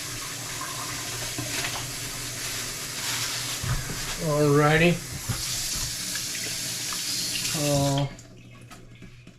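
Tap water runs steadily into a bag holding goat meat in a kitchen, a continuous hissing gush that carries on under a man's brief speech and stops abruptly near the end.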